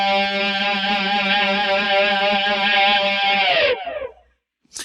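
A single electric guitar lick played slowly, one long sustained bending note with wide vibrato ringing loud and alone before it cuts off, followed by a short pause and a brief touch at the end.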